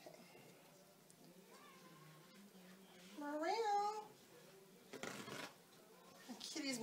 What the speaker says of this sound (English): Meowing on the other side of the room.